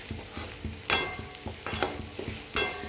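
Onions sautéing with chilli powder, garam masala and turmeric in a pan for aloo gobi, a steady soft sizzle broken by repeated scrapes and stirring clinks of a spoon, close up with no talking.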